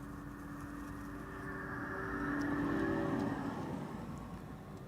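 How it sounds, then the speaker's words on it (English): An electric security-company car passes on a cycling path near an airport runway, a faint whine that swells over a couple of seconds and then fades away. "an electric car from a security company just now passed me by on the cycling path"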